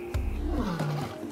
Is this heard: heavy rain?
no